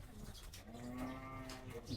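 A cow lets out one long, drawn-out moo at the Gabtoli cattle market, rising over steady background market noise.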